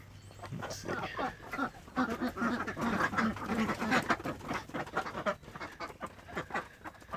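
A group of ducks quack busily and repeatedly, close by, with overlapping calls and some rustling.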